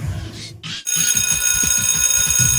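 A school bell rings loudly and continuously, a steady metallic ringing that starts abruptly after a brief pause and carries on to the end, heard at a pro wrestling show.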